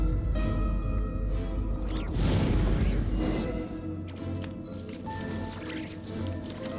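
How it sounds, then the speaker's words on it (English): Footsteps splash and squish across a water surface in Genshin Impact, with wet sloshing and dripping that builds to a louder burst in the middle. A quieter background follows with faint tonal game effects. "I'm not walking through water, I'm walking on top of it."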